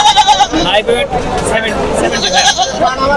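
Goat bleats repeatedly, close and clear, over a busy crowd of chatter at Tebaria livestock market, where large castrated goats are sold for Qurbani.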